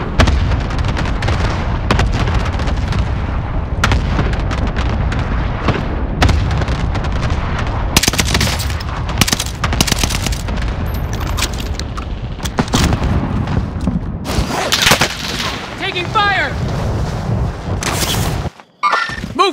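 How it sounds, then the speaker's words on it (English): A heavy cluster strike in the video game Fortune's Keep: a long barrage of loud, overlapping explosions and booms rolling on for many seconds, some blasts sharp and near, others deeper, with a brief gap near the end. "Allied cluster strike arriving."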